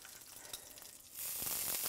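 Spicy coffee-rubbed steaks dropped into a hot pan, a quiet lull followed by a loud, bright sizzle that bursts in after about a second and holds steady.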